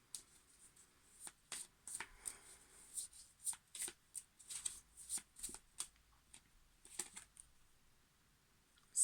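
Tarot cards shuffled by hand at close range: a string of quick papery riffles and slaps in uneven bursts, fairly quiet, with no voice over them.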